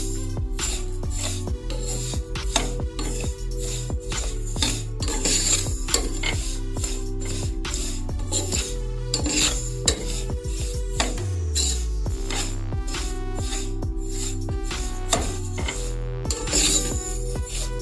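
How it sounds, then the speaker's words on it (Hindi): Sesame seeds are stirred with a spoon as they roast over low heat in a pan, making a continuous loud rasping, scraping clatter of metal on pan with rapid rhythmic strokes and no talk. "चम्मच इसमें मुसलसल हिलाते रहना है ताकि आपके तिल जल ना जाएं।"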